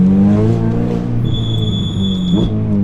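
A Ferrari 488 Pista engine revs hard and close, a loud continuous rasping drone that dips briefly and climbs again under light throttle.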